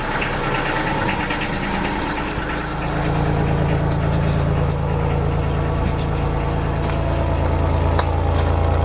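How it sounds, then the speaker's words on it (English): A 30-year-old diesel generator engine runs steadily after being started following years of disuse, with a loud, continuous low rumbling idle that holds even throughout, with no talking. "Okay, that's not bad for an engine that hasn't run in years."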